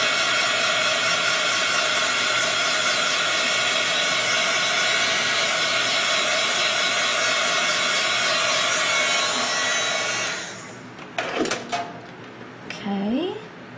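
A heat blower runs for about ten seconds with a steady loud whooshing roar while drying a craft piece, then switches off and is followed by a few brief handling clatters.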